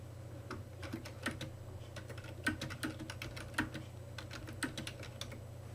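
Quick, irregular clatter of keys being typed on a computer keyboard, close and fairly quiet, with a low steady hum in the background and no voices.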